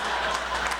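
A comedy club audience claps and applauds in a short, dense burst, a steady wash of many hands fairly close.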